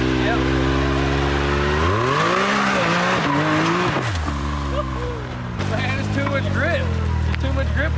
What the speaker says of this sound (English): Too much grip with all-wheel drive. That thing is digging, dude.